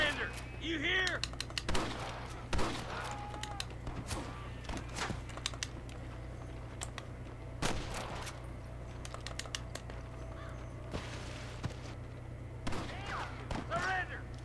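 Sniper shots ring out in a Red Dead Redemption gunfight, sharp distant cracks scattered irregularly across the scene over a steady low hum, with voices talking between the shots.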